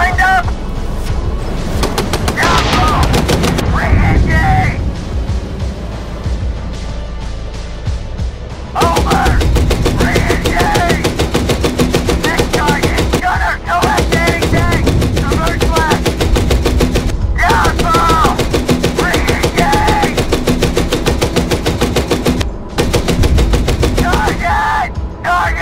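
Tank coaxial machine gun in the GHPC combat game fires long rapid bursts, loud and close, with brief pauses between strings and radio-style crew talk over the gunfire.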